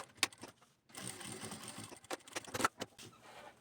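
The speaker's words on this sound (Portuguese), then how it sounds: "mas daí a gente vem com a costura desde aqui do comecinho até aqui" A sewing machine runs a short burst stitching a backpack seam, preceded and followed by a few quick clicks and handling sounds, quiet and close.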